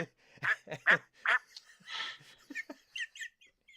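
A person imitates a duck with a quick series of short, nasal quacks and squawks of uneven rhythm. The voice is close and clear, with no other talk around it.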